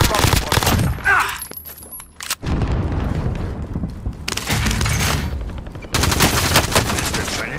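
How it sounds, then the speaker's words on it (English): Rapid bursts of automatic gunfire and sharp shots crackle during Call of Duty Warzone combat on Rebirth Island, loud and close, broken by brief lulls and a couple of game voice lines. "We're under fire."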